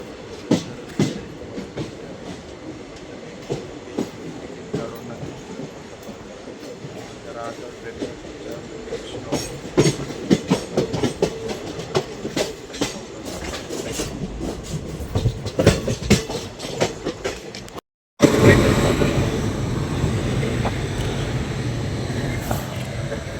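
A passenger train on the Mumbai to Bhusawal route rumbles along with rhythmic clickety-clack from the wheels, growing louder and rougher partway through, then breaks off briefly before a loud, dense roar resumes.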